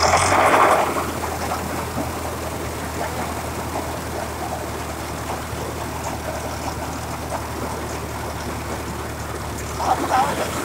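A rice mill machine in Victoria, Mindoro runs with a steady low droning hum and a constant rattling churn, loud and continuous, with brief louder clatter at the start and end.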